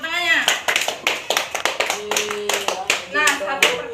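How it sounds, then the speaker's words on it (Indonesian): Students in a classroom clap their hands in quick, sharp bursts, scattered through the room, while children's voices and other talk carry on underneath and between the claps. "Ya, betul, tepuk tangannya."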